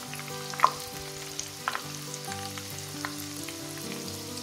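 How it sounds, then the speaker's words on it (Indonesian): Cireng, tapioca fritters with a spicy chicken filling, deep-frying in hot oil, produce a steady, dense sizzle and bubbling with a couple of sharp pops, heard up close and with no one speaking. "Oke, setelah apinya panas, kita langsung goreng aja ya teman-teman."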